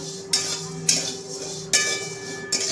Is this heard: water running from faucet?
no